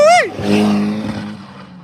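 A car drifts through Ebisu's Minami course at an autumn matsuri event, its engine roaring close and steady after a person's loud whoop at the start.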